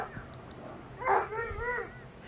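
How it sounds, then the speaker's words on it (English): A dog barking in frustration lets out a short, whiny bark with a yelping, pitched quality, faint and somewhat distant, followed by a softer whimpering call. "Georgia is barking out of frustration because she wants to meet Jack"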